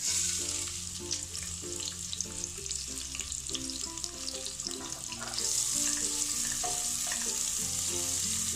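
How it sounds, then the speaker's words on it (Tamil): Sliced large onions sizzle and fry in hot sesame oil with spices in a pan, a steady crackling hiss under a musical background, with stirring and a brief burst of louder sizzle near the end. "அடுத்து நம்ம பெரிய வெங்காயம் சேர்த்துடலாம்."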